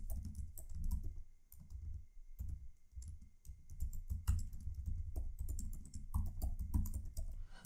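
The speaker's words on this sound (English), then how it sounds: "You can type by the keyboard." Keys are typed on a computer keyboard in quick, irregular bursts of close, crisp clicks with short pauses between runs, and no speech.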